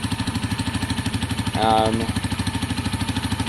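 A KSR Moto GRS 125 motorcycle idles with a steady, close, pulsing thump, then gives one short throttle blip that lifts the engine note briefly before it settles back to idle.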